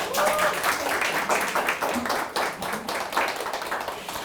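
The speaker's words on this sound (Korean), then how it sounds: "이때 좀 박수 하나 쳐줘야 되는 거 아니에요?" An audience at a small gathering claps in response to a speaker, a few seconds of scattered, moderate applause, fairly close, with a brief dip midway.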